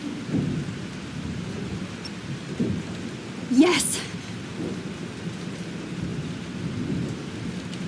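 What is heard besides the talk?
thunderstorm with rain in Life Is Strange, video game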